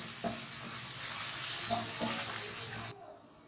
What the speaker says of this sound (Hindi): प्याज को हमने थोड़ा सा बस इसमें फ्राई करना है ऑयल में